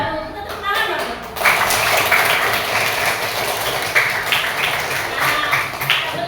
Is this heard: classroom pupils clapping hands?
yes